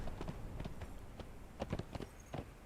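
Horse hooves clip-clopping at a steady walking pace in a video game, a series of close, moderately loud hoof strikes with a few heavier accents near the end.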